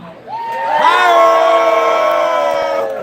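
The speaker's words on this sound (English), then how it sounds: "based on what I've heard from your screaming this evening so far" An audience at an outdoor polka concert screams, whoops and cheers together in one loud, sustained roar that swells and holds for about two seconds before easing off.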